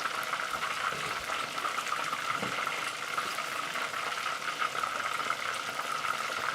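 Pork frying in hot oil for guo bao rou, a steady dense sizzle and crackle of bubbling oil, close and continuous with no talking.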